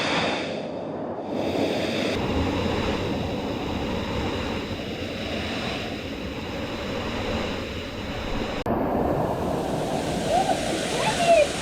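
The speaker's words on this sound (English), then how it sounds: "we got a little waterfall there to wash our hair" A small waterfall beside a river on Rote Island pours steadily, giving a broad, constant rush of falling water that fills the whole clip at close range.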